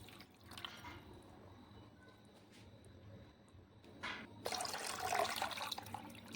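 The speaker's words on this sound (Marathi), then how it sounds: "त्यानंतर याच्यात पाणी घालून घ्यायचं आहे." Water poured into a bowl of kadhi batter made with flour, a quiet trickle building to a louder, steady splashing pour near the end.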